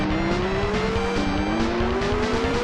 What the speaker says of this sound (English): Sound is good, you know, like these like F1 car sounds